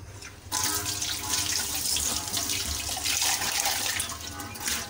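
Tap water gushes steadily into a sink while a steel pot is rinsed under it, a loud, close splashing hiss that starts abruptly and continues with shifting splashes, no talking.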